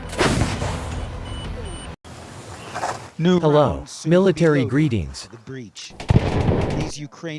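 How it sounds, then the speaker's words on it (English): An M777 155 mm howitzer fires, giving heavy booming blasts with rumbling decay in the first few seconds, followed by someone speaking over quieter background noise. "The M777 Howitzer is a 155 mm artillery gun."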